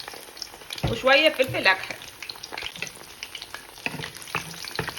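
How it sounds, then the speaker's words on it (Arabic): Three pieces of bone fry in hot oil with a little salt, a steady close hiss of frying. A short spoken phrase rises over it near the start, then the sizzle continues alone. "حطيت الزيت تاعي يسخن، حطيت 3 كعبات عظم."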